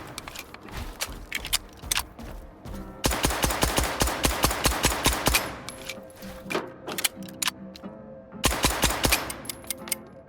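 A new pistol firing in the video game S.T.A.L.K.E.R. 2, sharp close gunshots in quick bursts of rapid repeated shots separated by brief pauses, with echoing tails between volleys.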